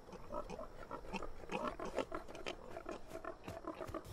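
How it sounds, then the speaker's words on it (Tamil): Pigs grunt and snort in a dense, steady cluster at moderate loudness, several animals overlapping with no pauses and no talk. "ரபி, அந்த பன்றிகளை சுற்றி போக ஒரு வழியை கண்டுபிடித்தாக வேண்டும்."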